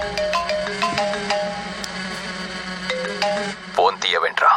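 A mobile phone ringtone plays as a repeating electronic melody of bright tones in a Telugu action film scene, steady and fairly loud, with a sharp burst of other sound near the end.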